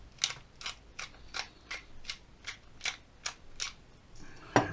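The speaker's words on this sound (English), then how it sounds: "this takes 2 hands to do this because it's a grinder" A hand-turned salt and pepper grinder produces about eleven crisp, evenly spaced ratcheting clicks, close and distinct, ending in a louder clatter.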